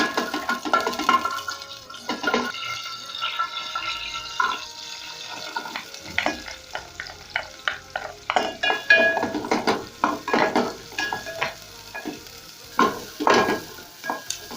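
Food frying in very hot cooking oil in a pan, a close sizzle broken by irregular stirring scrapes and spatters, loud and busy with no talk.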